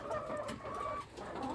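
Laying hens on a poultry farm cluck faintly for a moment, a few soft, low-level clucks in a quiet barn setting with no voices.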